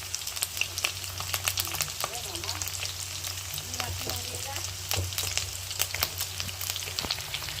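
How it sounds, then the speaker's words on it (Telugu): Quail pieces fry in a pan, browning in oil with a steady dense sizzle and crackle, occasional louder pops and the scrape of stirring throughout, close and continuous with no talk. "బాగా బ్రౌన్ కలర్ వచ్చేదా ఫ్రై చేసేసుకోవాలి"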